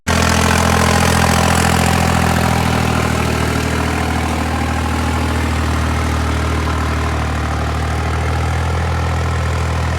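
A 3630 tractor engine runs steadily at idle, a loud, close, even diesel rumble with no change in pace and no voices.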